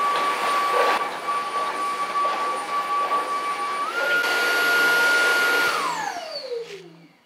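A UWANT D100 robot vacuum sucking up eggshell runs with a loud, steady whine, shifting up in pitch midway, then winding down as the motor slows at the end.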